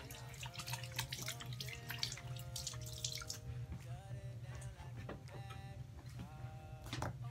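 Water running from a tap and splashing as facial peeling solution is rinsed off, a steady close trickle with drips and small splashes, no talking.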